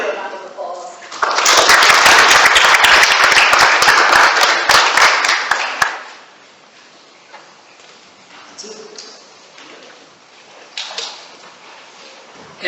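Audience at a meeting applauding in honor of an absent teacher, a loud burst of many hands clapping that swells quickly, holds for several seconds, then fades, leaving quiet room noise and faint murmurs.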